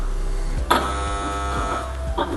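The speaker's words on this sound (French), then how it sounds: "nous avons le ticket qui va s'imprimer" A kitchen order ticket printer whirs and buzzes for a couple of seconds as the ticket feeds out, with a start click and a mechanical hum.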